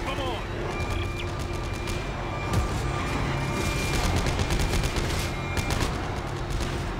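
Rapid gunfire rattles through Dead Space 3 combat, a steady dense stream of shots under a player's talk and a constant noisy backdrop.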